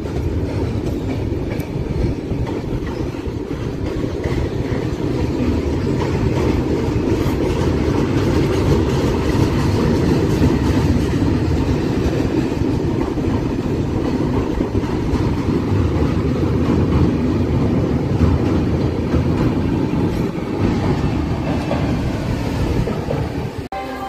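12787 Nagarsol superfast express running on rails, a loud, steady rolling rumble with continuous wheel clatter that holds up close for the whole stretch, with no voices.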